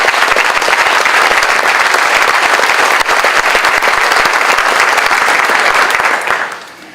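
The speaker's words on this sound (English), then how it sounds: "Give these folks a round of applause." A large audience at an honors night gives a dense, steady round of clapping, loud and close throughout, that fades out quickly in the last second.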